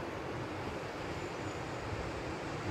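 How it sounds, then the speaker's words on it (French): A river with a small waterfall rushes in steady, broadband noise, continuous and fairly close, with no voices over it. "Il y a une petite cascade."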